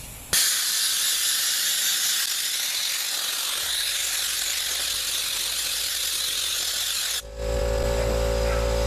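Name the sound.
big air compressor blowing air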